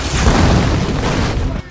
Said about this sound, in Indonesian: suara ledakan menarik penjaga lain dan Durov